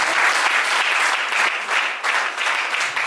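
A church congregation claps loudly and steadily during a prophetic worship service, dense close applause filling the whole span with a brief dip before picking up again.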